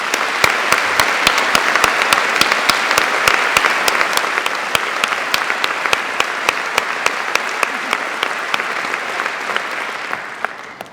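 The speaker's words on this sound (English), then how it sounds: "Please join me in giving them a warm round of applause." A steady round of applause for Birmingham Conservatoire musicians at a university graduation ceremony, sustained crowd clapping fading out near the end.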